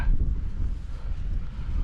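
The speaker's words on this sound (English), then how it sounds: "it is a wee bit windy" Steady low wind rumble buffets the microphone throughout on a frosty night at a mountain wild camp in the Mourne Mountains, with no voices, just a continuous gusty roar.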